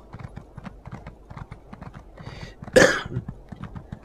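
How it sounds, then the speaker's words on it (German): A single sharp cough bursts out loud and close over steady clip-clopping hooves of a horse ridden in the game The Elder Scrolls Online. "ich und mein Husten"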